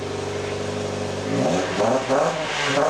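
A Lancer's 2-litre MIVEC engine idles with a deep rumble, then revs up several times in loud, raspy bursts from a close, unmuffled exhaust with a muffler delete and 4-inch tip.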